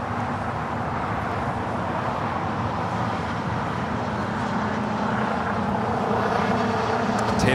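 An airplane takes off from runway 25 right at LAX, its engines a steady, loud broadband roar that builds slightly toward the end, with no voices over it.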